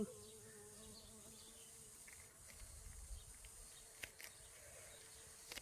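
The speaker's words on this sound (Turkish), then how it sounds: "Arı var mı içinde?" A bee buzzes faintly and continuously inside a pumpkin flower, a thin droning hum over soft outdoor background with a few small clicks.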